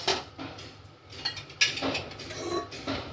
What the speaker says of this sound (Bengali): আমরা কুকারে দিয়ে দিলাম।